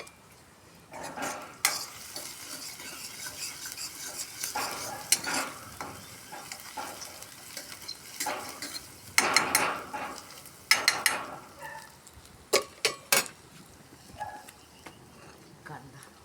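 Onion and masala frying in a pan over a wood-fired chulha, with soft sizzling beneath repeated scraping stirs of a ladle and occasional sharp metal clinks against the pan.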